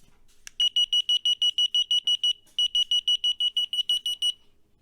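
An ESKY KF06A key finder sounds its alarm as a rapid train of shrill high beeps, about two dozen in two bursts with a brief gap, close and piercing in a quiet room.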